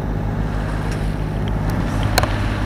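A sailboat motoring at about five knots on its diesel engine, a steady low drone with faint wind and water noise, a couple of brief knocks toward the end.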